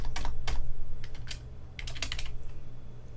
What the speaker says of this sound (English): So you just type default